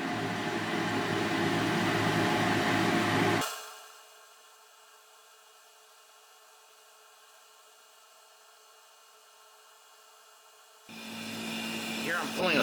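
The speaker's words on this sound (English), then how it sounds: "Here I'm pulling a slight vacuum on the solution" A laboratory vacuum pump hums and whirs, drops to a quiet steady drone for several seconds while pulling vacuum on a solution, then grinds louder again.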